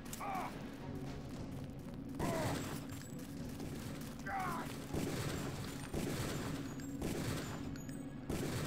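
Near-continuous gunfire in the Deus Ex 2 video game, dense rapid bursts and heavy booms running throughout at a loud, steady level with no clear pauses.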